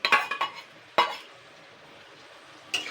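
Chopped large onion drops into hot refined oil in a wok, giving sharp clattering scrapes and clinks in quick bursts, then a faint steady frying hiss between louder stirring hits.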